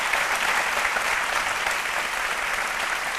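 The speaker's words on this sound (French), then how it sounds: "on applaudit très fort Lynn Jabert" Loud, continuous audience applause in a television studio show, a thick, even roar of clapping from many hands with no speech over it.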